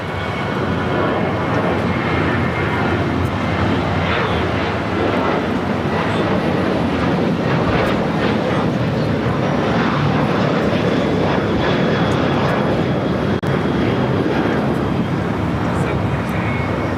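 Boeing 737-700 jet airliner in a special livery at LAX, a steady loud engine roar sustained throughout, with people talking over it.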